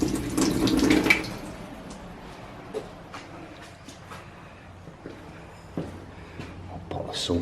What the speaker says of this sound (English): You do not expect running water.